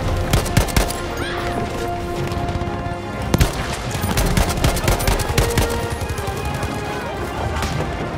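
Gewehr rifle and other weapons fire in the video game Battlefield 5, with rapid sharp shots and bursts of gunfire over a dense, loud battle din, plus occasional crashes.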